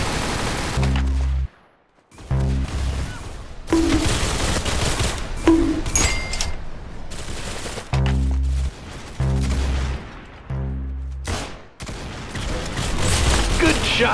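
Rapid gunfire bursts from the Roblox game Arsenal, loud and repeated in rhythmic volleys with short gaps between them, packed tightly across the whole stretch.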